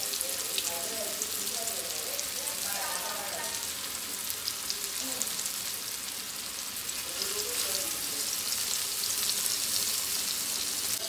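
Coated Karli fish fries in a pan, giving a steady, dense sizzle with light crackles throughout, while a voice talks quietly in the background.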